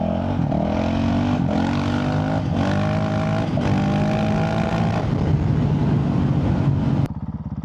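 Honda CRF450RL dirt bike with a Stage 2.0 tune and aftermarket exhaust, its engine droning loud and close with steady harmonic pulses that rise and dip with the throttle, then dropping abruptly to a lower rumble near the end.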